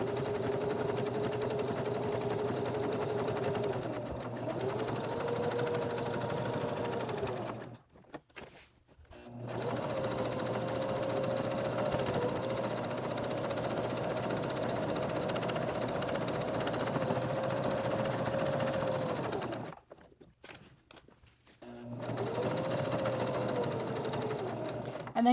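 Sewing machine stitching through a bulky reversible placemat, a steady close mechanical whir that labours and slows at points, broken by two brief pauses before the stitching resumes.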